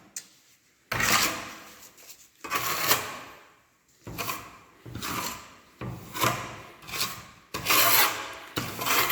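Mortar being scraped and spread with a trowel onto a surface during a laboratory pull-off adhesion test in civil construction, with six loud rasping strokes separated by short pauses, close and alone.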